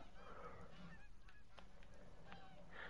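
Canada geese honk in the hunting game The Hunter: Call of the Wild, giving several faint, distant calls spread over a quiet, steady outdoor background.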